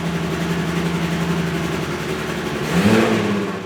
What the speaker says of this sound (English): That nasty, choppy idle is caused by our VTEC delete.